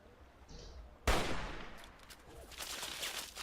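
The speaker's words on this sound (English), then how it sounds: "That guy's got a machine gun on him. Or a chain gun." Machine gun or chain gun fire in Fallout 3, opening with one loud, sharp blast and decaying into a rattling string of rapid shots that carries on near the close.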